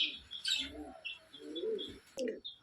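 Green parrots chirp and call in short bright bursts as they take off, with softer cooing pigeon or dove sounds nearby, fairly faint and scattered.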